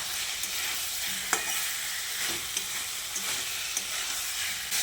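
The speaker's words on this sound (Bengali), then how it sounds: "কচু ও আলুটা দিয়ে মশলার সঙ্গে ভালো করে মিশিয়ে নিচ্ছি।" Fried taro and potato stirred into frying spices in a pan, a steady sizzle with soft spoon scrapes and light clacks repeating every second or so, close and continuous.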